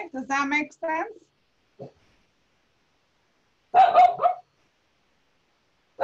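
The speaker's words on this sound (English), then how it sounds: "Is that your dog? That's my dog." A dog indoors gives a short burst of barking partway through, loud and close, after someone speaks briefly and before a quiet gap.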